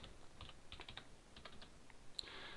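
Quick, faint clatter of keys on a computer keyboard, a short burst of typing heard up close with no speech.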